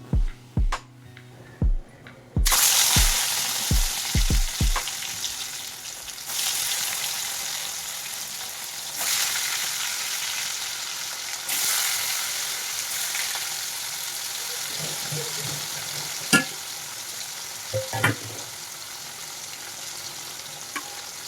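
A few clacks of a wok, then salted paneer hits hot oil with turmeric and sizzles loudly and steadily, with occasional scraping and stirring sounds.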